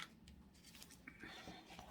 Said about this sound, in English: I got my little tiny scissors, and I'm just gonna kind of cut every couple stitches